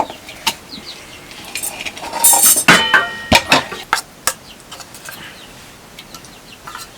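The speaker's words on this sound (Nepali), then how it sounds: "कुखुरालाई चारो दिनुपर्छ ल" Village chickens clucking in short irregular bursts, with a flurry of wing flapping and scattered knocks in between, fairly close and outdoors.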